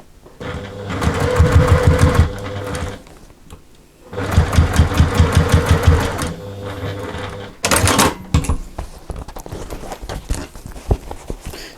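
Sewing machine top-stitching a fabric tab onto zip panels for a travel case, running in two long steady bursts of rapid rhythmic stitching, then a short start-stop run with clicks and handling noise.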